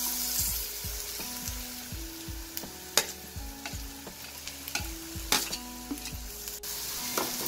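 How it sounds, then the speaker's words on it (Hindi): Ginger and garlic frying in a pan for sarson da saag, a steady close sizzle with repeated scraping stirs of a spoon knocking the pan in a loose rhythm. "हमारा जिंजर गार्लिक लाल हो चुका है अच्छे से, थोड़ा सा और कर लेते हैं इसको लाल।"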